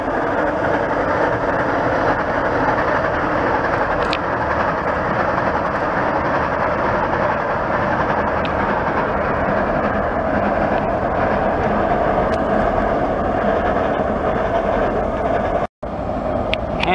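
A Waratah passenger train rumbles steadily across the Meadowbank rail bridge, a loud continuous roar of wheels and carriages that holds for the whole stretch, with a brief sharp dropout near the end.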